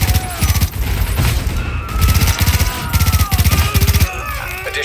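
Dense bursts of rapid gunfire rattle loudly in repeated volleys through a firefight in Times Square in Tom Clancy's The Division, with short pauses between the automatic bursts.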